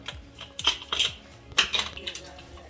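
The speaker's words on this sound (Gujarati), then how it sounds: "હવે આપણે કુકર ખોલી નાખીશું" Metal clinks and clatters from the lid of a pressure cooker being handled and opened while cooking Kathiawadi potato curry, several sharp close knocks in quick succession.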